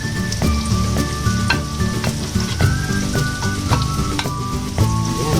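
Grated ginger sautéing in a hot pan, a continuous bright sizzle broken by repeated scraping and stirring strikes, close and fairly loud, with no voices.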